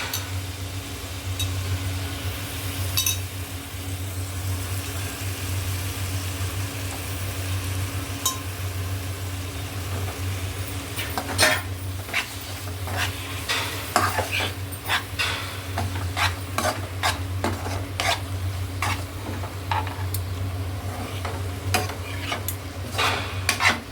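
Fresh sardines are stirred into a red Malvani masala in a pan, giving a steady low sizzle that grows busier with frequent metallic scrapes and clinks of the spoon in the second half.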